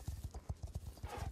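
Close, rhythmic clip-clopping of horse hooves in the Star Stable game, a quick even gait with a faint neigh near the end.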